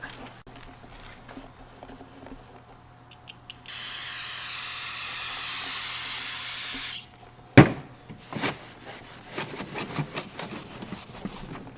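Brake cleaner sprays onto a Datsun 280Z engine part, a Fidanza flywheel, in one steady hissing burst of about three seconds, followed by a sharp knock and quieter handling and rubbing sounds nearby.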